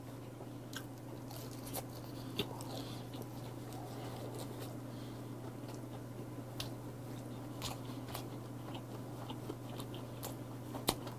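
Grilled capelin (shishamo) eaten whole from head to tail, with soft close chewing and small crunching bites over a low steady hum.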